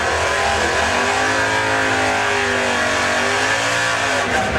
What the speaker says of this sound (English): very powerful car with a large engine.